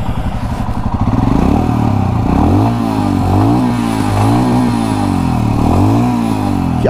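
Royal Enfield Scram 411 scrambler motorcycle engine revving up and down repeatedly, a loud, close single-cylinder thump rising and falling in several throttle blips with no talk over it.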